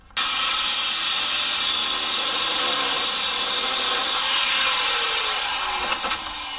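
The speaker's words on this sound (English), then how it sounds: "We're just going to try and cut the head off that bolt." A steady, loud abrasive cutting whine runs throughout as the head is cut off a bolt on an 88-98 K1500 Silverado during cab corner and rocker panel work, with no pause and a slight pitch shift near the end.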